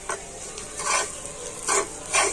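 A spatula stirs a fried egg-and-flour snack tossed with chaat masala in a pan, giving several short, close scraping strokes over a faint sizzle.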